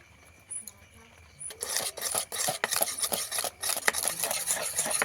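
Cake batter with fruit and a pinch of salt being mixed in a bowl for a Christmas fruit cake: a quiet start, then steady, close scraping and rasping strokes that keep going without pause.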